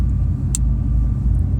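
A car ferry crossing from Gräsö island to Öregrund pulls away from the harbour, its engine a loud, steady low rumble heard from on board, with a brief sharp clink partway through.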